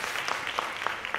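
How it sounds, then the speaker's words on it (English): Audience at a talk gives a brief round of applause, a light, somewhat sparse patter of clapping with a few distinct claps standing out, moderately faint and short. "let's give another round of applause"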